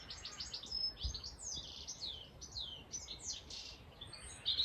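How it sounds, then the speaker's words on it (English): Small birds chirp and trill steadily in quick bursts, fairly close, over a soft background hush. "Listen to that bird song."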